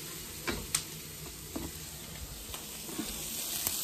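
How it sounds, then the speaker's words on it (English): Onions cooking in a pan for smothered steaks, giving a steady faint sizzle with a few light ticks and clicks of stirring, no voices over it. "And so we're just going to let these onions cook."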